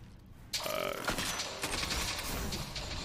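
Rocket fire in a Destiny 2 Trials match: a sudden loud blast that swells into a dense, rumbling roar and stays heavy to the end, with players' voices underneath.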